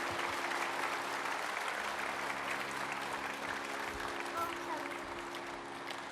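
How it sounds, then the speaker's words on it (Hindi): Loud, steady applause from an audience at a yoga and Ayurveda gathering, filling the whole stretch with dense clapping and some murmur beneath. "एक बार जोरदार ताली बजा दो"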